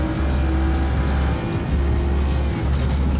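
A Cadillac engine pulls hard at wide open throttle through the Carousel on the Nürburgring Nordschleife, a loud, steady, droning roar with a constant low rumble and a brief dip in the middle.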